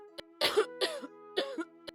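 A woman in a cartoon story coughs hard three times, each a loud, raspy, throaty burst set against a steady background hum.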